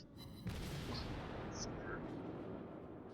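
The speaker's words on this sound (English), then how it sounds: "Looks like he's firing armor piercing at me" An enemy tank in a video game fires armor-piercing shells: a deep, booming cannon blast hits near the start, then a rumbling, noisy aftermath and battle din fill the rest, with faint game sounds layered on top.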